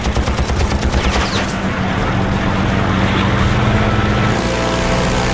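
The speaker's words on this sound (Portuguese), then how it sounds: "McGee abre fogo." Fighter aircraft cannons rattle off a loud, rapid burst at a Focke-Wulf 190, dense and close, with engine roar and rumble carrying on beneath and after the firing.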